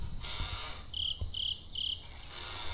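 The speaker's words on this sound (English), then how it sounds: "We have a cricket." A cricket chirps at night in the woods of the video game Caught in Nowhere, three short bright bursts of chirping in a row over a faint hum of ambient noise.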